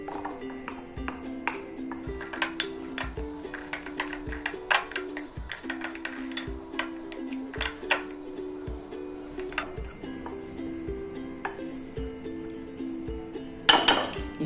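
A spoon stirs and clinks around a bowl while gram flour is mixed with spices, giving a steady run of light metallic taps and scrapes, close and unaccompanied by talk.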